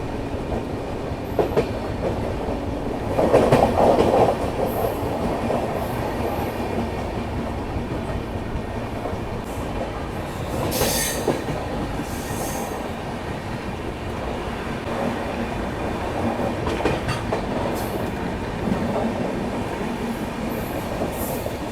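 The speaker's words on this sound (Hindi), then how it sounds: "इस यात्रा के दौरान ये ट्रेन 1500 किलोमीटर का लगभग सफ़र तय करती है।" Bilaspur Rajdhani Express running on Indian rails, with a steady low rumble and rhythmic clickety-clack of wheels over track joints and faint squeals, continuous throughout with no talk.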